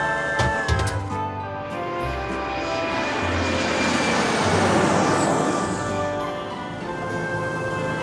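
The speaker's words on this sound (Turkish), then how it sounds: "Uçak kalkış için hazır." An animated cartoon airplane takes off, its aircraft engine drone swelling to a loud peak and then easing slightly, after a few brief clanks at the start. No voices are heard.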